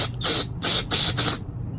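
Carburetor cleaner hisses out of a spray can into a jet on a plastic Briggs & Stratton carburetor in four sharp, close bursts with short pauses between them.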